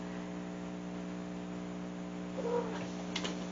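A pet cat gives a short, faint meow-like call indoors against a steady electrical hum, followed by a brief soft rustle.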